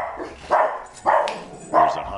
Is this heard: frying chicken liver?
no